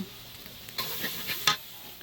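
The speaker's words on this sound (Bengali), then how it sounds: "এখন আমি দিয়ে দেব হলুদ গুঁড়ো দিয়ে আবারও একটু নেড়ে ছেড়ে বেজে নেব" Spiced masala with turmeric powder frying in a pan, a low sizzle broken by a few short stirring scrapes, alone and fairly faint.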